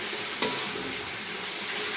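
Chili frying in oil in a pan, a steady close hiss of sizzling with a faint scrape of stirring near the start and no voices.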